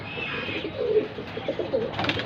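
Punjabi pigeons coo softly and close by in a brief, low, throaty murmur over a constant background hum, with a faint flutter near the end.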